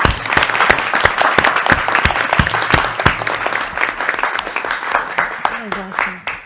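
Audience at a school committee meeting applauding, with steady crisp individual claps from a modest group that taper off near the end, followed by a faint voice.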